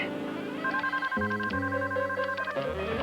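An indoor telephone rings with a repeating electronic tone in short bursts, fairly clear and close, with no voices over it.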